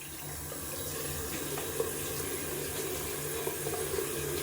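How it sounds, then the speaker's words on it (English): Cold water runs steadily from a bathroom tap into a sink during a wet shave, a faint continuous hiss and trickle with a few small splashes and no voices. "Gonna add some cold water to that face."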